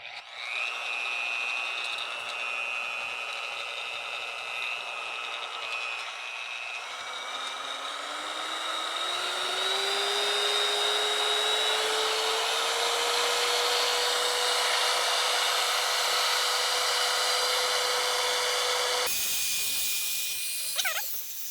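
A rotary polisher, leaking grease, runs at speed one: a hissing airy motor whine that climbs in pitch as it spins up, then holds a steady tone before cutting off abruptly.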